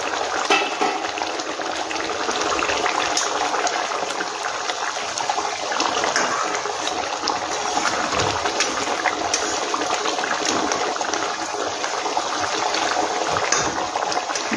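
Bhetki fish curry cooked with mustard oil and red pepper bubbles steadily in an uncovered pan, a continuous close simmering and spluttering with no talking.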